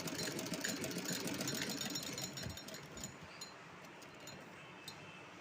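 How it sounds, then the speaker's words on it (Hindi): An electric sewing machine stitching a small doll dress runs in a fast, steady whirring buzz, close and fairly quiet, then slows and fades to a softer hum near the end. "चलिए तो मैं सिलकर दिखाती हूँ।"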